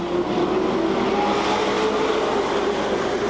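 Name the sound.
sportsman stock cars racing at Seekonk Speedway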